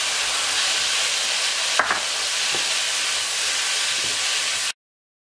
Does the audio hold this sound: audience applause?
no